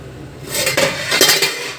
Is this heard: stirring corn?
yes